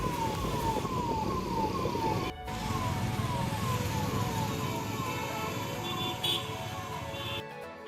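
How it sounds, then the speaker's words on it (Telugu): An ambulance siren wails in a city traffic jam, its repeating rising-and-falling tone sweeping steadily over a dense rumble of road traffic, moderately close and loud. "ఈ అంబులెన్స్కి అయితే ఎవరు కరెక్ట్గా దారి ఇవ్వట్లేదు."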